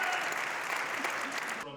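Pastors in an audience applaud a choir's hymn performance, a bright, even wash of many hands clapping that stays level for under two seconds before cutting off abruptly.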